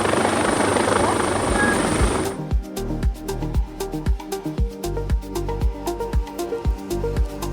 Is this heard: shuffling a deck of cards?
no